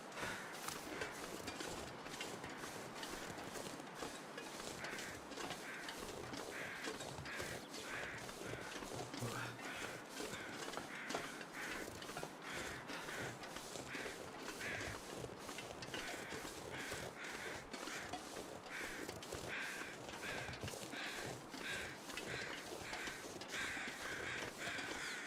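Crows cawing in the survival video game The Long Dark. Their calls repeat over a constant windy hiss, with regular crunching pulses running steadily through the whole stretch and no voices.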